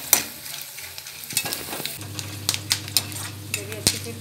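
Onions fry and sizzle in a pan in a home kitchen while a spoon stirs them, with repeated scraping and clinks against the metal close by.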